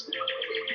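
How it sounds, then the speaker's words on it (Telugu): Parrots kept at a Dubai aquarium attraction chirp in a quick burst of bright, shrill calls, close and fairly loud, over less than a second with no voices. "ప్యారెట్స్."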